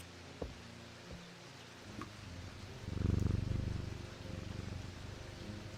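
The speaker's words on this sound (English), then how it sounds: "Nice cat purring sounds." A cat purrs in the video game Strange Antiquities, a soft, low, rumbling purr that swells in the middle and then fades, following a couple of faint clicks over a quiet, steady background hiss.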